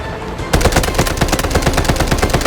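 Rapid automatic fire from an AKS rifle in the shooter game Delta Force, a steady close rattle of evenly spaced shots starting abruptly and continuing without pause.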